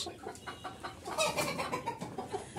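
Fayoumi hens cluck in soft, repeated bursts inside a coop in the late afternoon, close by and fairly quiet, with no voices over them.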